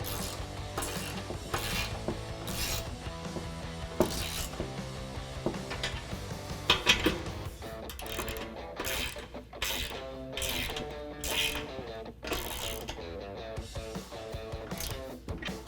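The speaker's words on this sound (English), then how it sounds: "So now I'm going to tighten everything down with a 18mm open-ended or box wrench and an 18mm socket." Ratchet and wrench tightening 18mm bumper bolts on a 2018 Jeep Wrangler JL's front bumper, heard as repeated, close, rasping clicking bursts over steady background music.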